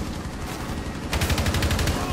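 Gunfire in the video game Rainbow Six: a steady loud wash of shooting, then a rapid burst of repeated shots fires for the last second, dense and close.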